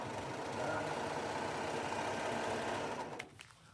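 A sewing machine runs steadily while top stitching shower curtain fabric, a continuous close hum and rapid needle rattle lasting about three seconds before stopping.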